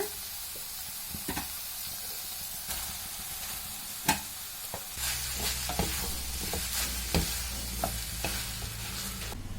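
Cooked rice is stirred into a tomato tempering in a hot pan, with a steady sizzle under clattering spoon knocks and scrapes that grow busier in the second half.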